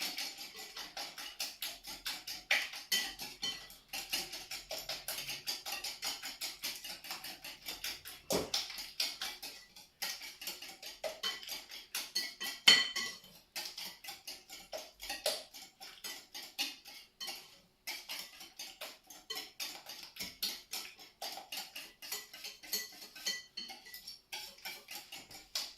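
Utensil stirring blueberry clafoutis batter in a bowl, with light rhythmic clinks and scrapes repeating steadily throughout, close and fairly quiet with no talking.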